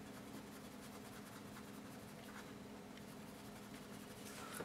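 Steady scratchy friction of an art eraser rubbed back and forth on paper, close and continuous, with a faint low hum running underneath.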